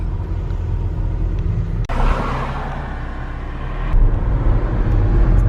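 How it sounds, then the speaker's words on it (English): Busy Monday morning road traffic en route to the Barbican, with a steady loud rumble of cars and other vehicles passing close by, the engine noise swelling louder toward the end; no one speaks. "Busy Monday morning traffic."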